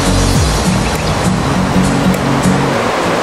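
Broadband rushing water from a river beside a roadside stop on a motorcycle tour, steady and close throughout, with a low engine-like hum pulsing underneath.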